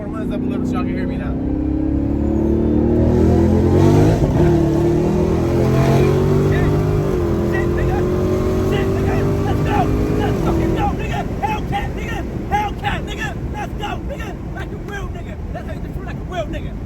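A Dodge Challenger Hellcat Redeye engine roars and revs hard as the car accelerates, loud rising engine tones with gear shifts and a heavy rumble, heard up close from inside amid wind noise.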